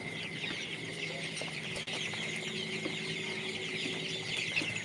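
Chickens cluck and call on a poultry farm, a busy overlapping chorus of hens with occasional sharper squawks over a constant background hum.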